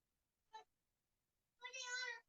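A pet cat meows twice at close range in a quiet room: a short chirp first, then a longer, drawn-out meow about a second later.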